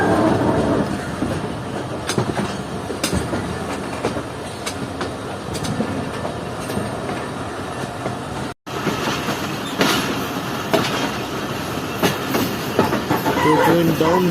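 Jaffer Express train rolling from the down loop line onto the main line on a Peshawar to Lahore run, with steady rumbling wheel noise and clickety-clack over points, loud and continuous with a brief dropout midway.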